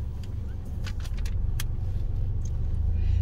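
A MINI Cooper Countryman with automatic gearbox and 1.5-litre, 136 hp engine pulling away: a close, steady low engine rumble with faint interior clicks and rattles, growing slightly louder toward the end.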